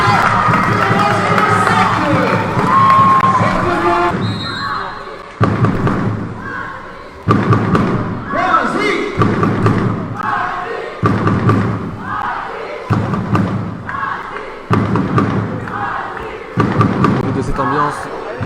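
Crowd noise fills an indoor pool during a French championship water polo match between Noisy and Marseille. Spectators cheer and roar throughout with rhythmic thumping beats, under continuous commentary.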